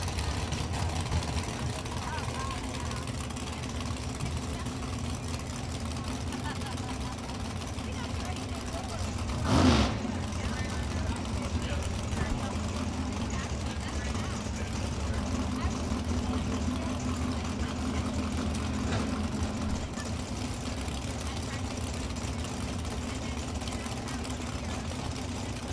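An Oldsmobile Cutlass drag car in an Outlaw series race at Kil-Kare Dragway, its steady, dense engine roar running the whole time under an announcer's voice, with one brief louder burst near the middle.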